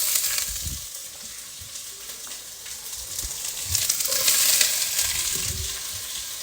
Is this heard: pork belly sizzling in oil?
yes